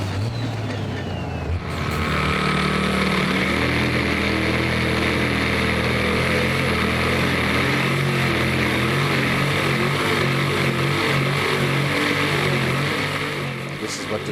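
The Green Apple pulling tractor at a 2016 Eurocup tractor pulling event in Brande, Denmark, its engine starting at a low idle, then surging into a loud, sustained roar with shifting pitch that holds for the rest of the run.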